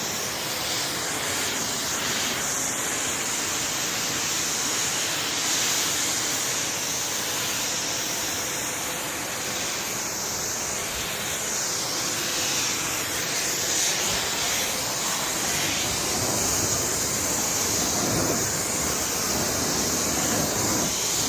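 Water sprays continuously onto a Newell motor coach during a wash, a loud, close, unbroken hiss of spray that shifts slightly in strength as it moves across the surface.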